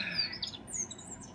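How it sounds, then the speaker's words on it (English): Birds chirp outdoors, a few faint, high tweets scattered over quiet background noise. "Those are just birds."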